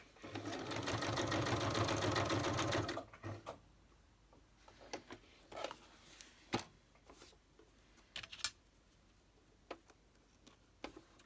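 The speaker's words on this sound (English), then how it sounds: "I think I need to do a little stitch there. I just do straight stitch just to hold that down." A sewing machine runs a straight stitch across a napkin collage page for about three seconds, a close, steady rapid mechanical whir, then stops, followed by soft ticks, taps and handling of the fabric and paper.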